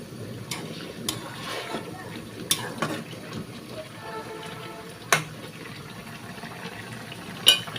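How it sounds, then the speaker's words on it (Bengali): Curry sautéing in a pan gives a soft steady sizzle, with a few sharp clinks of a spoon or spatula against the metal as it is stirred, and a voice talking over it. "এই যে তরকারি এই যে কষাইতেছি"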